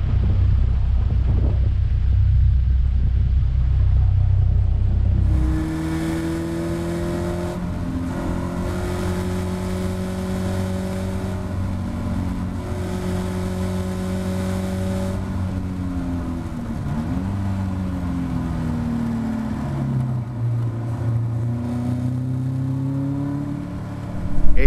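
A Caterham race car climbs a steep section at Cadwell Park, its engine note rising and falling through gear changes, a loud onboard drone with a deep rumble in the opening seconds before the revs climb.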